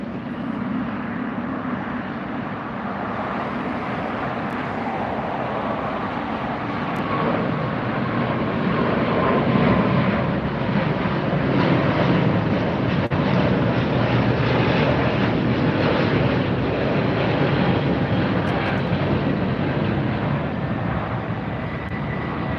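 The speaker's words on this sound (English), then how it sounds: "Next departure headed out is Japan Airlines." Japan Airlines airliner departing LAX, a sustained engine roar with a deep rumble that builds gently and stays steady and fairly close throughout, no voices over it.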